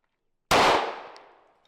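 A single loud, close shot from a Ruger 57 pistol strikes a metal hatch. The sharp crack is followed by a ringing decay that fades over about a second.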